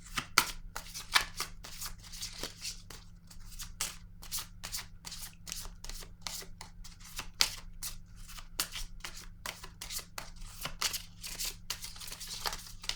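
Tarot cards being shuffled up close, a long run of rapid papery riffles and slaps with a steady rhythm and a low background hum, no talking.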